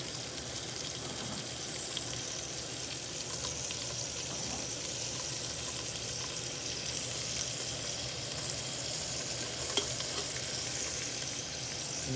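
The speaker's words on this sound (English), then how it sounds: "add that into the olive oil and butter in the pan" Thinly sliced pancetta sizzles steadily in olive oil and butter in a pan, a soft continuous frying hiss with no one talking.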